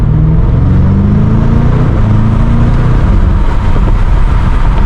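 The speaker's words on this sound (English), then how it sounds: "I really hope the GoPro is catching this audio because the car sounds amazing" Stock BMW M5 Competition engine on a deserted late-night drive, a loud, steady cabin-side drone with rising and falling rev tones as the car pulls through the gears, continuous and without talk.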